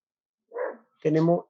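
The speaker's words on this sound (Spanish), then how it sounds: "escucho que hay Héctor, muchos perritos por ahí." Two short dog barks sound in quick succession, the second fuller and louder, heard at moderate distance with no other sound around them.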